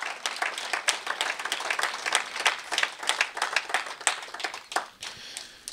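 A church congregation applauding the Lord Jesus Christ during a French-language sermon, many hands clapping in a lively, uneven rhythm that gradually thins out toward the end.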